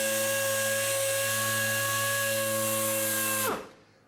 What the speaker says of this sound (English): you don't even have to stop the sander to squeegee